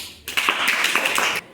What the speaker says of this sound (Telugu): వెరీ గుడ్ మా క్లాప్స్